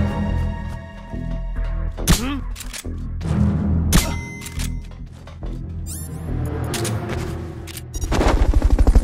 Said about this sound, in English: Enemy attack? We're being shot at!